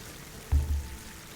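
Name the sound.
water sounds in Horizon Forbidden West video game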